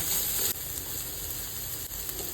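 Green chili and finely chopped tomatoes hit hot fried onions in a pan for a Goan egg drop curry, giving a steady close sizzle that drops slightly after a brief louder burst at the start.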